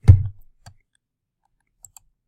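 Computer mouse button clicks, one sharp nearby click followed by a few fainter, widely spaced ticks in an otherwise quiet room.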